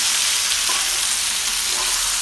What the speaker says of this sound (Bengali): দিয়ে আরও কিছুক্ষণ এভাবে নেড়ে চেড়ে ভেজে নিব।